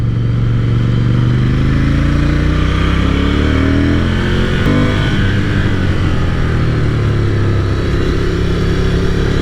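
A Ducati Scrambler Cafe Racer motorcycle with a fuel-injected engine revs loud and close, its pitch climbing and falling through several throttle openings over a constant rumbling roar.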